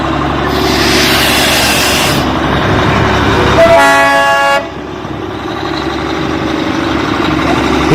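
The Darjeeling toy train passes through Batasia Loop in thick fog, its steady rumble under a single loud, sustained horn toot that lasts about a second before the rolling train noise continues alone.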